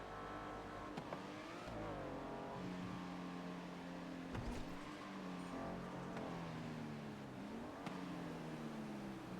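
A car engine in Grand Theft Auto V (FiveM) drones and revs steadily throughout, pitch rising and falling with gear-like shifts, loud and continuous with a synthetic, game-like character.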